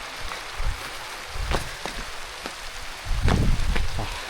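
Afternoon rain in a village patters irregularly on surfaces, with scattered louder drops and a heavier burst of falling water toward the end, heard alone at moderate level.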